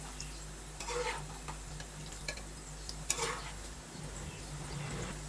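A spoon stirring besan dumplings as they fry in a pan, with soft scraping and clinking over a steady low hum and faint sizzle.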